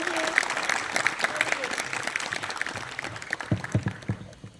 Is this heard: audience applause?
yes